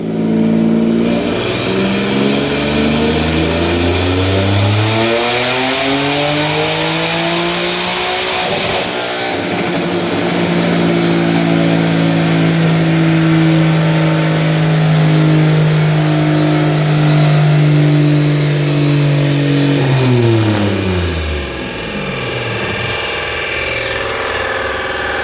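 A boosted 3.7L V6 in an S550 Ford Mustang revs hard on a dyno, the engine note climbing through long sweeping pulls, holding high, then winding down, loud and close with no talking.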